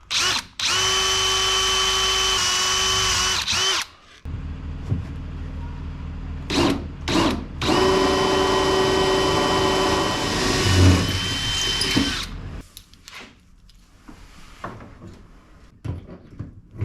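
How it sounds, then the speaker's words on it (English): A power drill bores through aluminum angle on a jon boat to bass boat conversion build, two long loud whining runs broken by short pauses and knocks, then quieter handling noises. "When you're drilling out this angle, highly recommend you clamp it down because it can definitely spin on you as you're drilling"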